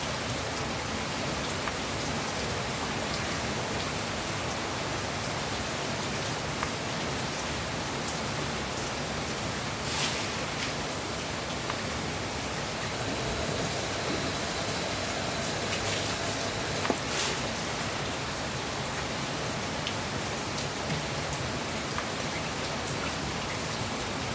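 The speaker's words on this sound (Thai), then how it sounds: "ให้ชมบรรยากาศฝนตกค่ะตกมาก" Heavy rain falls steadily for over twenty seconds, a dense, even hiss of drops hitting surfaces with no voices and only a few slightly louder splashes standing out.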